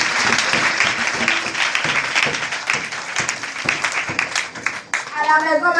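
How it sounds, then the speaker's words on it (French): A church audience claps and cheers to acclaim the Lord, dense and loud applause that carries on steadily, with a voice speaking over it near the end. "Est-ce qu'on peut acclamer le Seigneur?"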